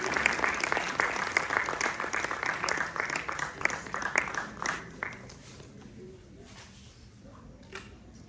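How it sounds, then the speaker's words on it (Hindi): Audience applause at a yoga conference fills the room with dense clapping for about five seconds, then thins out and fades to scattered claps toward the end. "जोरदार तालियों के साथ स्वागत कीजिए सर।"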